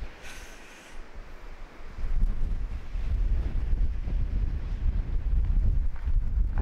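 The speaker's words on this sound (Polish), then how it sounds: "Ale wieje! Strasznie. Mroźny wiatr jest." Strong, freezing Icelandic wind buffets the microphone with a deep, roaring rumble that grows louder after a couple of seconds and keeps blowing steadily.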